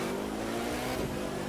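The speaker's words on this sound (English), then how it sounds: "Listen to the engine." A car engine in The Crew 2 racing game revs hard during a one-make race, a steady, loud mid-pitched drone that holds throughout the short stretch without any talk.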